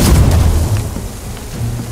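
Cannon fire in the pirate video game Sea of Thieves comes as heavy, booming blasts, with a loud rumbling thud at the start and a second deep thump near the end, heard without talk.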